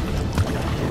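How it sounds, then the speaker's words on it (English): Kayak paddling out on the sea: a steady wash of water and splashing under a broad noisy bed, with a brief stronger swell near the middle of a one-second stretch and no voices. "We are actually paddling on the seven seas."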